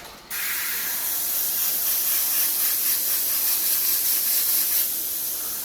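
An airbrush loaded with dark violet paint sprays in one continuous close hiss, starting abruptly and holding steady for several seconds.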